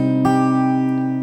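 A short guitar phrase from the Fast & Furious theme, with a sharp plucked attack near the start and notes ringing on into a sustained, steady chord, played alone with no talking.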